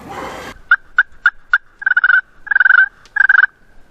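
A short rush of noise, then a string of wild turkey clucks and yelps builds into rattling gobble-like bursts, loud and close.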